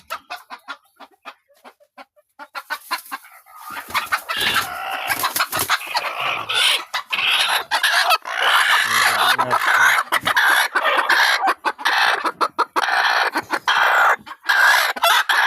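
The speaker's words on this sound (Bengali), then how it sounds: "এই তো আমাদের ঘর, মুরগির ঘর।" Many native (desi) chickens cluck and squawk loudly in a dense, continuous chorus inside a farm chicken house, close and echoing, after a few quieter seconds.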